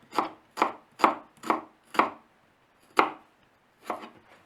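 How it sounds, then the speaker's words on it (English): Onion being chopped finely with a knife on a board for a homemade potato salad: seven crisp, close knife strikes at an uneven, unhurried rhythm with brief silent gaps between them, with no talking. "I'm also going to add a bit of onion. You can chop it really fine"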